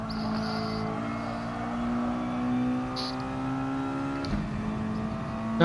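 Mazda touring car in a racing video game at Suzuka, engine droning steadily then the revs falling as the driver lifts off the throttle, with a short downshift blip near the end; no speech.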